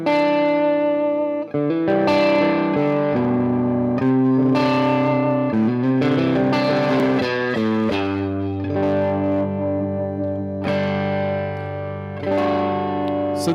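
An electric guitar played through a Bad Cat Cougar 5, a 5-watt 1x12 combo amp, with a touch of reverb: loud, sustained chords and melodic lines with crisp attacks, ringing clearly throughout.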